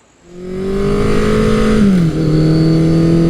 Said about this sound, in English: this is just one of those few bikes that sounds amazing from the factory